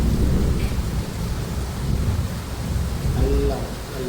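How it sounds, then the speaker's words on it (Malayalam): Low, continuous thunder rumbles after rain, sustained and fairly loud, with the wash of rain or wind mixed in throughout. "ഇടിമുഴക്കം ഉണ്ടായിരുന്നു, ഇപ്പോഴും ഉണ്ട് ചെറിയ മുഴക്കം"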